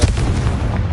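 Confringo fire spell blasts in Hogwarts Legacy during a fight with a giant spider, giving a loud, booming low-end explosion that fills the whole second without letup.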